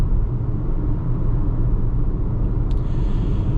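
Steady low tire rumble and road roar inside a 2027 Kia Seltos X-Line SX while driving, constant and even throughout with no talking.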